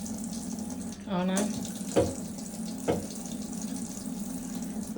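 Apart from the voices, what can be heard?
running tap water for bathing a baby bat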